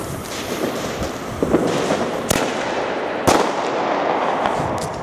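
A Thunder Kong Max salute firework shell bursts in two sharp, loud bangs among dense crackling and rumbling outdoor noise, as part of a comparison of large mortar-tube fireworks.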